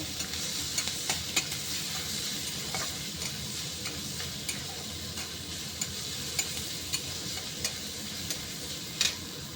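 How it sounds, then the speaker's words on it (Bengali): Leafy greens frying in a little oil with salt in a pan give a steady, soft sizzle throughout, broken by faint scattered ticks and clicks of stirring, close and fairly quiet. "এটা ভালো করে ভেজে নেব।"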